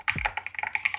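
Keystrokes on an Epomaker TH40 40% mechanical keyboard, a quick run of close, crisp clacks at an uneven typing rhythm, opening with a low thump.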